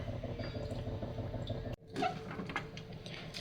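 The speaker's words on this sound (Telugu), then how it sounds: "ఇట్లా ఫస్ట్ వాటర్ తీసుకొని ఇట్లా ఇట్లా ఇట్లా వేస్తాను నేను" Water poured over leafy greens being washed in a kitchen: a steady low trickle and drip, then a cut to a brighter splashing pour that rises and fades.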